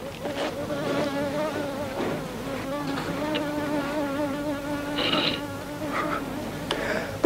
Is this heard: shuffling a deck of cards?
no